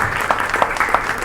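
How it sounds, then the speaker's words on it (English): A crowd at a stand-up comedy night in a food court in Muscat, Oman applauds the serving staff, steady clapping with a few sharper peaks over a brief stretch. "a round of applause for them"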